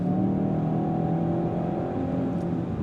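Steady, close engine drone with a smooth, whirring tone from a 2025 Kia K5 GT with a dual-clutch automatic powertrain, holding nearly constant pitch throughout with no voices.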